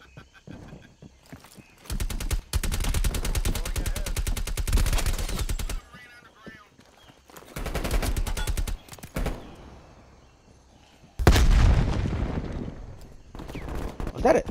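Streetsweeper shotgun fire in the video game Call of Duty Cold War, with rapid bursts of shots in three separate volleys and quieter gaps between them.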